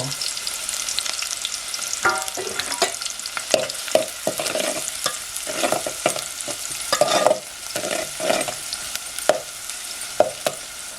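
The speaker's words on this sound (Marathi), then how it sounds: "टोप तापलाय मस्त तेल तापलं आहे कांदा घालते कांदा आणि लसूण पण आहे" Onion and garlic fry in hot oil in a pot on a wood stove, with a steady sizzle under repeated sharp stirring knocks and scrapes of a spoon against the pot, fairly close.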